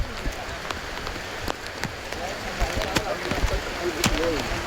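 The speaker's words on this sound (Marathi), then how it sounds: "पाऊस जाम पडतोय आज." Heavy rain falling at the Aarey Colony dam, a dense steady patter of drops close by with sharp splashes and taps, voices murmuring faintly underneath.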